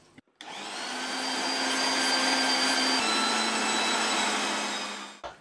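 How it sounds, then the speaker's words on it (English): Very loud electric meat mincer grinding lamb meat and fat, a steady high-pitched motor whine that starts abruptly, holds for about five seconds and then stops, close up with no voices. "the world's noisiest mincer"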